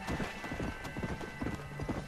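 Horse hooves clip-clop at a steady trotting rhythm in the Red Dead Redemption: Undead Nightmare game on Xbox 360, close and fairly loud, with a faint whinny mixed in.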